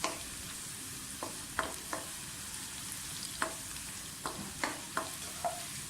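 Onions and spices fry in cooking oil for a pea and potato pulao, a steady close sizzle broken by a few sharp scraping clicks as the pan is stirred. No voices.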